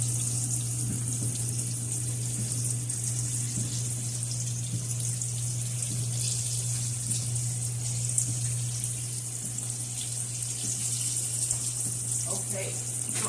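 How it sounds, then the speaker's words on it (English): Hands washed under a running kitchen tap, a steady hiss of water holding throughout over a constant low hum, with a few faint clinks. "I'm washing my hands again"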